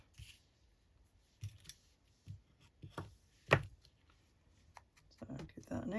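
Scissors snip through patterned paper while trimming a papercraft pocket, a few short crisp cuts spread apart with one sharper snip in the middle, quiet and close amid soft handling noise.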